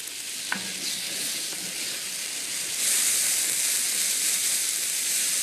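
Diced bell pepper dropped into a sizzling Portuguese refogado for octopus rice, a sharp clatter at the start, then a dense hiss that swells louder partway through, with no talking.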